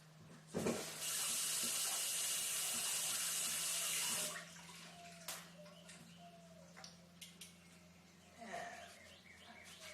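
Tap water runs steadily for a few seconds as a guava-like tara fruit is rinsed at a sink, then shuts off, followed by soft handling clicks and faint drips close by.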